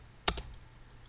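A couple of quick computer keyboard keystrokes while entering code, one sharp click followed closely by a softer second tap, close and isolated against near silence.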